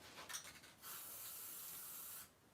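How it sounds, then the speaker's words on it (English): A spray paint can hisses onto cardboard in one steady burst of about a second and a half, close and fairly quiet, preceded by a few soft rustles. "So I literally will pool spray paint on this."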